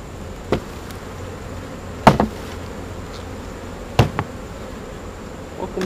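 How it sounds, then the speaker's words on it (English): Honeybees hum steadily around a hive's bottom board during a late-August hive inspection, a continuous buzzing interrupted by a few sharp knocks. "there's a bunch of bees over there on the bottom board"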